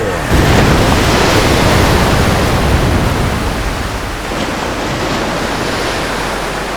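A loud, steady roar of crashing ocean water as a falling plane plunges into the sea, a dense broadband wash that stays strong throughout with no voices.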